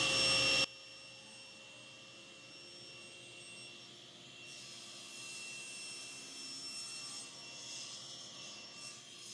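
A table saw fitted with a crosscut sled starts with a sharp burst, then its motor settles into a steady, even whine that holds throughout with no talking.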